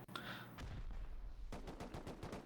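Rapid bursts of M2 machine gun fire in the video game Rust, heard during a tournament base raid, come as a quick string of evenly spaced shots at moderate distance, following an earlier muffled blast.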